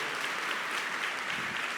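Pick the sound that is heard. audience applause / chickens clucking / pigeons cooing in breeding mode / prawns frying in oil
audience applause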